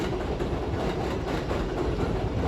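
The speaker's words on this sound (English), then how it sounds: "That's a New York City subway." A New York City subway train rumbles past up close, a loud, steady roar of wheels and rail noise with faint clatter throughout and no voices.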